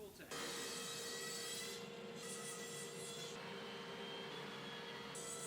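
Cloth buffing Elixir wood butter wax across a padauk slab, a steady close rubbing swish that runs on without a break.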